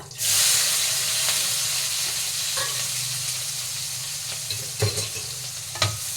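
Native small onions frying with curry leaves in hot oil in a pan, a steady loud sizzle with occasional stirring clatters, no talk.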